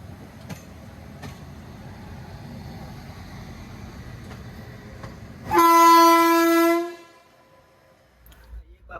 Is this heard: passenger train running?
yes